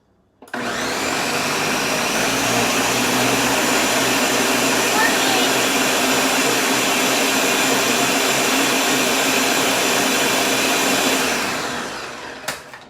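A blender roars steadily at full speed for about eleven seconds, pureeing watermelon gazpacho, loud and close, then winds down to a stop.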